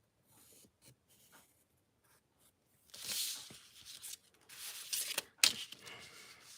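A white pencil marks paper in an art journal, a quiet scratchy scribble of short strokes that gets busier and louder partway through, with no one talking.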